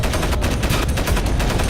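Rapid automatic gunfire in the video game Crysis Warhead, a loud, close burst of evenly spaced shots rattling in quick succession with no pause and no voices.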